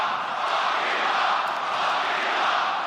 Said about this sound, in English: Are they cheering what I think they are?